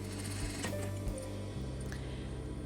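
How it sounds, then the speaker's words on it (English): A sewing machine runs back and forth stitching a bridal glove seam, a steady close whirring hum with brief shifts as the stitch direction reverses. "sewing back and forward stitch to secure the seam"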